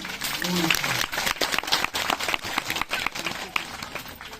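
A crowd at a Bhagwat religious gathering in an Indian village claps for a foundation and village cleanup, scattered to steady applause under a speaker's voice, fairly close and lively.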